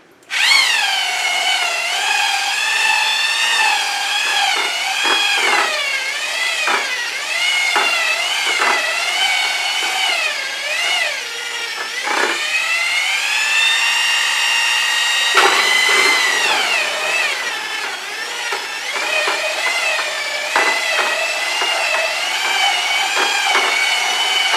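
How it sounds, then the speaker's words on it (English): A power drill runs continuously at the bottom of a container, mixing a dip for a pour-and-dip coating, its loud whining motor rising and falling in pitch as the load changes, with no voices. "My drill was all the way down at the bottom."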